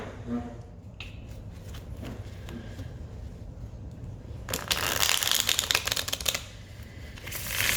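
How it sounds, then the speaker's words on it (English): A deck of cards is riffled and shuffled up close, a crisp flurry of flicking and snapping that builds then fades, with soft handling noises before it. "the first shuffle is to clear the energies"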